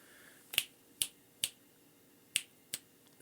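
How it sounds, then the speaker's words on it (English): Finger snaps picked up close on a sensitive microphone during a streaming setup test: five sharp, crisp clicks spaced irregularly about half a second apart, each loud and dry against near silence. "Can you hear that? Snapping my fingers."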